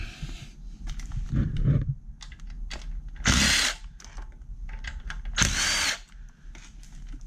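A power drill backs bolts out of a scooter during disassembly. Several short, loud buzzing bursts are separated by pauses filled with clicks and handling clatter, close up and with no talking.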